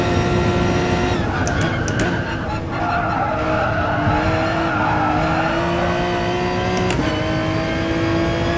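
Tires squeal and skid continuously as a race car slides around corners in Gran Turismo Sport, long sustained screeches over a droning engine note, loud and close, with no talk.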